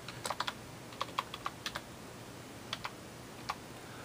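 Keys tapped on a computer keyboard while entering text into a spreadsheet, a few quiet clusters of close clicks with short pauses between them.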